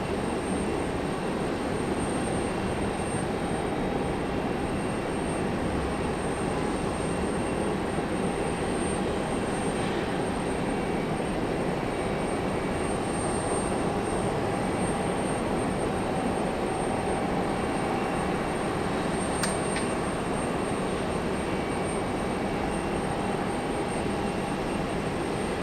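A Delta airliner departing Raleigh-Durham for Nashville gives a sustained, even jet roar with a faint steady whine on top, unbroken for about twenty-five seconds and free of talk.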